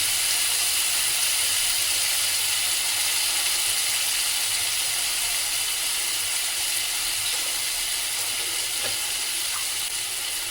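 A 200-gram packet of paneer pieces fries in a little oil in a non-stick pan, making a loud, steady sizzle and hiss that runs without pause, with no voices over it.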